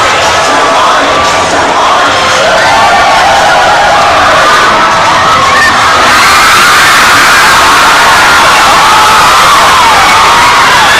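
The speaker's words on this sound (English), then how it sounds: "As the cheers go on from a packed house tonight." Loud, continuous roar of a packed crowd cheering and shouting at a men's basketball game between ROP and PNI at the Micronesian Games in Pohnpei, with whoops and yells swelling throughout.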